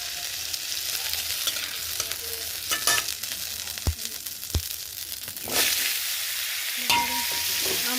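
Hog plums for a sweet-sour-spicy pickle sizzle in hot oil in a wok, a steady broadband fry with scattered stirring scrapes and clinks, swelling louder midway as the fruit hits the oil.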